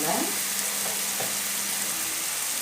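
Onions fry and brown with salt in a pan for a spicy paneer gravy, giving a steady, close hiss of sizzling with a couple of brief stirring scrapes.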